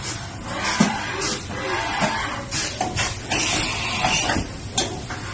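A 2008 Haas VF-3APC CNC vertical machining center moves along its axis at 1000 RPM, giving a steady close mechanical whir and hiss with intermittent clicks and ticks of the machine running, no talking.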